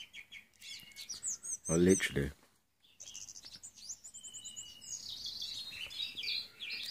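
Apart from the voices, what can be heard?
birds chirping in the morning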